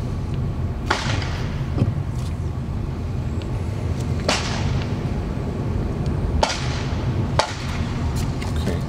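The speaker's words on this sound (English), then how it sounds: "I'm going to open the windows here so you can hear some of the guns" Gunshots at an outdoor shooting range ring out as distant sharp cracks, roughly half a dozen spread irregularly over a steady background rumble like an idling vehicle.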